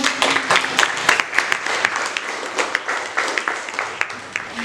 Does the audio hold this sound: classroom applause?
yes